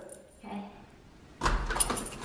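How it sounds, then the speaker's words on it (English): Large conservatory doors opening to the outside for the first time, a soft rattle of handle and latch followed by a louder clatter and slide as the doors swing, with people talking nearby. "We haven't opened these conservatory doors yet to outside."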